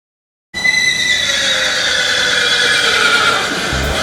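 A horse neighs loudly and close, one long shrill whinny that begins abruptly after a short silence, wavers and trails off, with a faint thump near the end.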